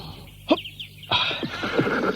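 A horse whinnies sharply once, then a longer, louder neigh follows with a rising and falling shaky tone, close and clear with no talking over it.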